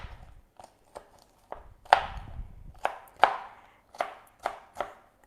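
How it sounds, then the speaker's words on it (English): A knife dicing a small brown onion on a board, about a dozen crisp, close chops in an uneven rhythm with short gaps between them. "So we want diced onion, and it's a small onion."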